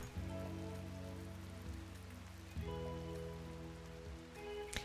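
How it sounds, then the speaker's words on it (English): Rain falls steadily in the RimWorld video game, a soft continuous patter under a low, droning musical tone, with no voices. "This rain has not stopped, by the way."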